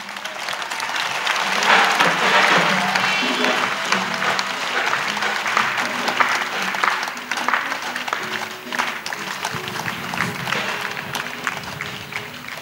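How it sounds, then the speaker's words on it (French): An audience at an evangelism gathering breaks into sustained clapping and applause, a dense crowd sound that swells early and then carries on steadily with scattered voices mixed in. "Oui, acclamez. Yes, let's clap."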